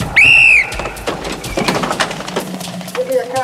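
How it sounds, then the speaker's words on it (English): One loud, shrill whistle blast opens a police training scenario, sharp and sustained for about half a second, followed by clattering movement, thuds and voices in the background. "Whistle to start the scenario."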